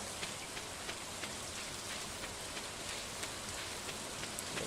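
Soft, steady rainfall in the Stardew Valley video game, a constant hiss dotted with faint droplet ticks, playing quietly with no voices.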